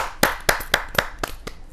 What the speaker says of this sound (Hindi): जोरदार ताली के साथ राकेश रतन जी का स्वागत है।